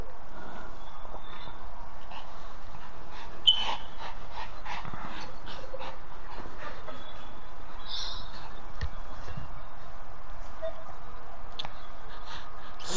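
A dog pants and whimpers over about thirteen seconds, with soft breathy pants and brief high whines scattered across a faint steady background, fairly close and alone without talk.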